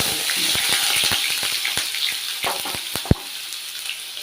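Ginger drops into hot oil for mango pickle, a loud close sizzle with crackling pops and spits, one sharp crack standing out near the end.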